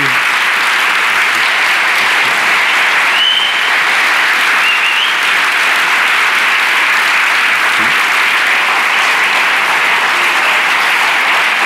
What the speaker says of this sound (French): Puis je vous propose de remercier Nicolas avec des applaudissements.